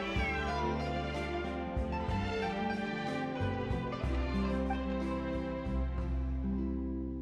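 Cat meowing in a video game, a repeated drawn-out mewing over a steady bed of background music, clear and fairly loud throughout.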